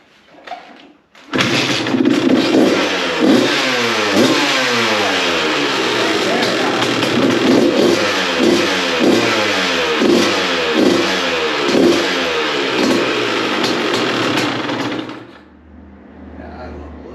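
A 2002 Honda CR125 two-stroke motorcycle engine starts after a second of quiet and runs loud and close for about fourteen seconds, with repeated rising revs and blips, then cuts off.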